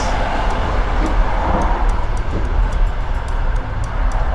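Steady low rumble of a Russian long-distance train interior between Omsk and Chelyabinsk, constant rolling noise with faint rhythmic clicks from the track, no voices.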